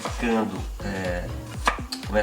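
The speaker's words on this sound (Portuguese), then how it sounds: "Começa picando os itens que vão ser cozidos. A batata, a cenoura." A kitchen knife chops potato and carrot on a board in a quick, even rhythm of soft, close thuds, faint and steady throughout.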